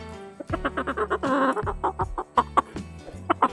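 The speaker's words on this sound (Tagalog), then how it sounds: "Ayun po naman sisiw." Young chicks at a backyard poultry setup, alongside four-month-old chickens, give a rapid series of close, loud clucks and peeping calls in short repeated bursts, with no talking.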